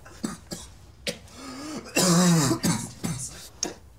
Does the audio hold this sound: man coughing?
yes